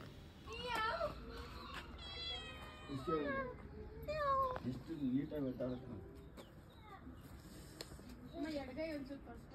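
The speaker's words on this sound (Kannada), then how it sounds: "ತುಂಬ ಆಕ್ಟಿವ್ ಇದೆ ಇದು ಕ್ಯಾಟು" A cat meows repeatedly, varied and insistent, close by, with soft background noise and faint bird sounds between calls.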